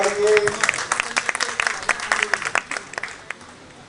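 An audience at a Jashn-e-Azadi poetry recital claps after the poem, a burst of applause that thins into scattered claps and fades, with a voice briefly heard at the start.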